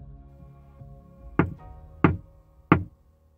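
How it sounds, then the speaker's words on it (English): Three loud, forceful knocks on a window, evenly spaced and sharp, following a quieter low background; close and alone with no talk. "an even louder, more forceful knock on the window."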